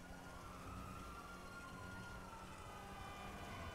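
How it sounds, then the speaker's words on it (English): A steady wash of police sirens and engine noise from the video game GTA 5 rumbles continuously, dense and unbroken, with a wailing tone running through it. "There was just too many sirens going off."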